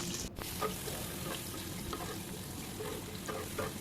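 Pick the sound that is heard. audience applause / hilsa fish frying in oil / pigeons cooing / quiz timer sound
hilsa fish frying in oil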